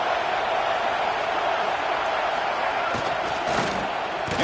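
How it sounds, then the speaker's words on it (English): Dense, roaring crowd noise fills a packed college football stadium in Tennessee, a constant loud wash of cheering voices with a few sharper swells toward the end. "Listen to this crowd noise."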